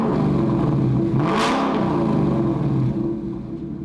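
A 2018-2023 Ford Mustang with a Borla stainless steel Active ATAK cat-back exhaust, valves wide open in track mode, revs steadily at close range, a sustained loud engine roar that swells near the middle and eases toward the end.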